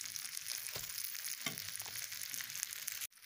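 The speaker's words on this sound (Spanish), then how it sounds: "Vamos a poner los panes a calentarse porque ya está el comal caliente." Bread buns heating on a hot comal griddle give a soft, continuous sizzle and crackle, with a couple of brief scraping or shifting sounds before it cuts off abruptly at the end.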